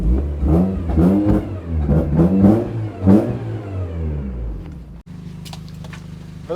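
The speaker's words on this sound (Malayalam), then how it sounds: "നമ്മൾ വണ്ടി എടുത്തിട്ട് ഈ സൈഡിലേക്ക് ഇട്ടിട്ടുണ്ട്." A Honda Civic's engine revs several times in quick bursts as the car is moved, loud and close, then settles to a steady idle hum.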